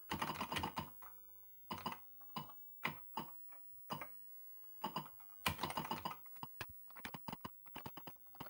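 Clattering keystrokes on an Atari 8-bit computer keyboard while entering BASIC code, close and crisp, in irregular bursts with short pauses between.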